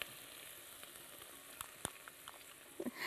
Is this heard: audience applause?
no